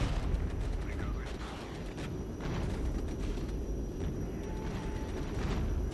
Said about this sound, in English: I'm just going to keep pounding them with rocket strikes